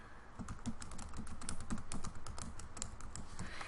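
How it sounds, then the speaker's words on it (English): Steady keyboard typing on a computer while a WordPress post is written, quick irregular keystrokes clattering close and clear throughout with no speech. "this time I'm going to actually type some words in here"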